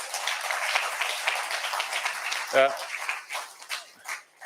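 Applause from a conference audience at an inaugural session in Bhubaneswar, a moderate wash of clapping running under and between spoken words, with a short voiced sound breaking through midway.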